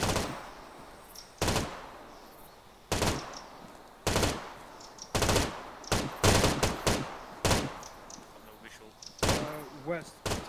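Machine gun fire on a military training exercise: a series of sharp, loud bursts and single reports spaced irregularly over several seconds, echoing, with shouted voices between the shots.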